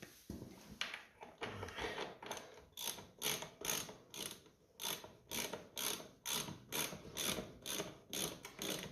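A ratcheting tool clicks in quick repeated strokes as it works on nuts of a 1955 Ferguson TED 20 tractor, close and crisp, in regular bursts of rapid ratchet clatter.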